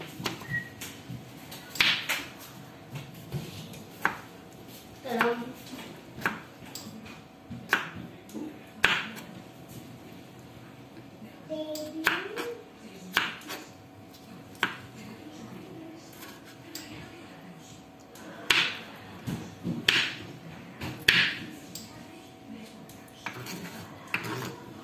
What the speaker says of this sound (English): And then we are going to cut it in 4 slices.